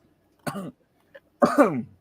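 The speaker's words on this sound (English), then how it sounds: "While you're coughing" Two coughs, the first short and the second rougher and longer, with a faint click between them, close and clear in a quiet room.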